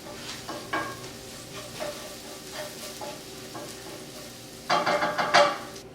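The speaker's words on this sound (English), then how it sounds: "I'll saute the 2 garlic cloves." Two garlic cloves sauté in a pan over medium-low heat, giving a soft steady sizzle with a few stirring scrapes and a louder burst of clatter and crackle near the end, heard close with no talking.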